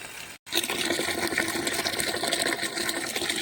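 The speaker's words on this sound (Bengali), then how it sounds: "শাকটা আমি দুই তিনবার করে ধুয়ে নেব" Fresh spinach leaves are washed in water, producing a continuous close splashing and sloshing rush after a brief silent gap near the start, with no talking.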